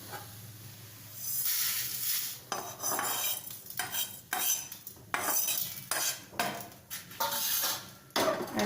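Coriander seeds dry-roasting in a pan over medium heat while a utensil stirs them continuously, giving scraping, rattling strokes with a steady background sizzle, close and moderately loud with no talking.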